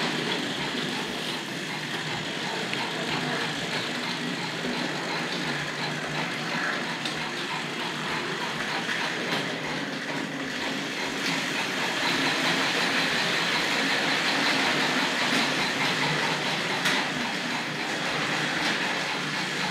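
A Tri-ang Hornby TC Pacific model train fitted with exhaust steam sound runs steadily along the track, a continuous chuffing rush with regular rail-joint clicks underneath, fairly close and steady throughout with no talking.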